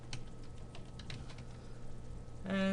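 Faint, quick clicking of keys on a computer keyboard as a password is typed, soft and steady against a low background hum.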